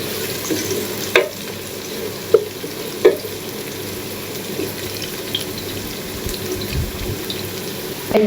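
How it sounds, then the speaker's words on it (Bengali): Raisins and cashews frying in leftover vegetable oil in a pan, a steady close sizzle with a few sharp clinks and stirring scrapes throughout. "এখন দিয়ে দিব কিশমিশ, আর দিয়ে দিব কাজু বাদাম"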